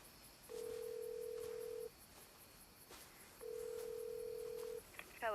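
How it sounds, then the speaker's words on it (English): A phone call rings out with two steady, even ringback tones separated by a pause, faint and electronic-sounding over a quiet background. "think about how long it takes to get a phone call to ring and then somebody to pick it up."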